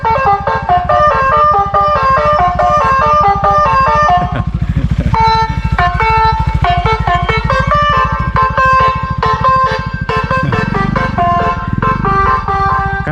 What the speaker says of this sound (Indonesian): Bus telolet.